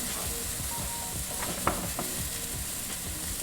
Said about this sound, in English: Hear that? That's what you're looking for. That sizzling sound.